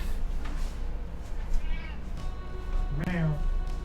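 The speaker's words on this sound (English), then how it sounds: "Okay, I gotta see what my cat's bugging about." A pet cat meows a couple of times indoors, short plaintive calls near the start and a clearer one near the end, heard beneath a person talking.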